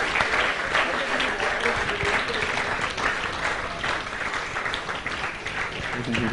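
An audience at a student event gives a sustained round of applause, thick steady clapping from many hands with faint voices mixed in underneath.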